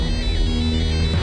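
A phone ringtone plays loudly and continuously in a Hindi film scene as a dense, tonal electronic melody with no pause.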